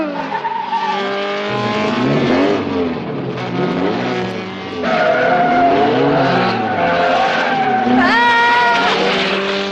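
A car speeding with tires squealing and skidding, loud close engine roar and long wavering screeches rising and falling over the whole stretch, with a voice faintly under it.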